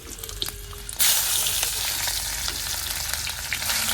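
Onion frying in oil in a home kitchen pan, a sudden loud sizzle that jumps in after a quiet start and then holds as a steady crackling hiss close by.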